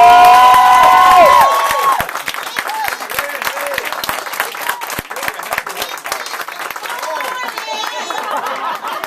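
Crowd applause and cheering swell after a brief musical jingle, continuing steadily with claps and shouts filling the room.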